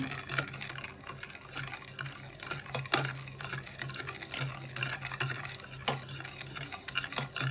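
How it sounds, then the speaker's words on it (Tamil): A spoon stirs sugar into hot milk in a pot, giving soft, steady scraping and swirling strokes with occasional light clinks against the vessel, close and quiet with no talking. "இந்த பால் சூடாக இருக்கும்போதே நம்ம இந்த 1 கப்பு சர்க்கரையை போட்டு அதை நல்லா கலந்துக்கலாம்."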